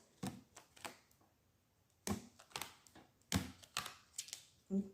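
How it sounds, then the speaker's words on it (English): Tarot cards being shuffled during a reading, heard as a series of crisp papery riffles and snaps in short irregular bursts, close and fairly quiet, with no talking. "I'm just going to shuffle the cards."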